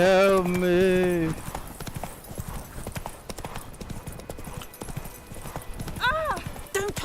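Roach, the horse in The Witcher 3, gallops with quick, rhythmic hoofbeats after a loud neigh at the start, with another short whinny near the end and a voice talking over the hooves.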